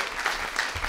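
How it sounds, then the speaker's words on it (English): A brief patch of audience applause, a steady wash of clapping hands from a crowd heard at moderate distance for about a second, with no voices on top. "Everybody give Sarah a big round of applause."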